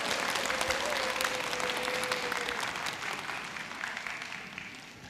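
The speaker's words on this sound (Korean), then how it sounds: "다시 한번 큰 박수 부탁드립니다" A crowd at a Buddhist expo radio open-studio show claps steadily, with the applause gradually thinning and softening over several seconds.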